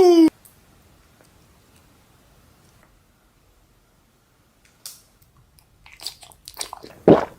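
A spicy hot chip is bitten and crunched close to the mic during a hot chip challenge, with a few sharp crunches coming after a near-silent pause and one loud burst at the end.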